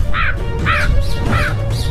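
Crows in an animated story caw four times in a quick, evenly spaced series of harsh nasal calls, loud and close over a low background rumble.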